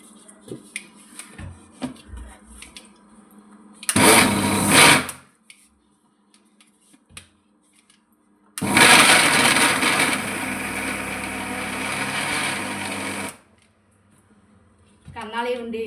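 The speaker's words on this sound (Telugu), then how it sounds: "అది ఇంకా ఇప్పుడు మిక్సీ ఆడేసుకోవచ్చండి" Mixer grinder grinding fried black gram, two loud bursts of whirring motor noise, one short and one lasting several seconds, with quieter handling sounds between them.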